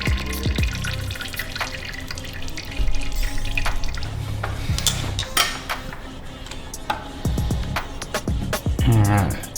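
Brake fluid drips and trickles from the disconnected stainless steel brake lines of a Honda CBR600RR motorcycle into a catch container, with irregular close drips, small clinks and handling noises throughout.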